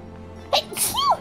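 A single sharp human sneeze bursts out loud and close, with a quick intake followed by the explosive release, amid a game-streaming session with faint background sound.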